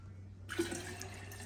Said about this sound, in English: Then just fill up your container with water like so.